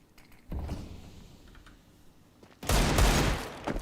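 Desert Eagle pistol shots in CS:GO during a pro 2v2 match, a couple of heavy, booming cracks with the second one louder and closer, set against low in-game background noise, no talk.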